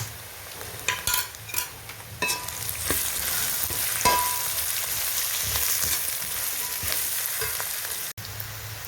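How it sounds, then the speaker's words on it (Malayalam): Onions and curry leaves fry in hot oil in a pan for a beef curry, giving a steady close sizzle with scraping stirs and a few sharp utensil clicks near the start. "ഇത് നമുക്ക് നല്ലോണം മൂപ്പിച്ചെടുക്കാം"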